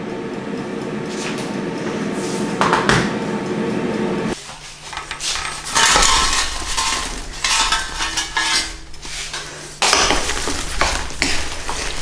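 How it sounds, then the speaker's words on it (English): A thick sweet potato and chickpea curry is stirred in a pan, with a spoon scraping and knocking against the metal in uneven strokes. The sound is close and continues for several seconds with short pauses and no talking. "Let's stir around."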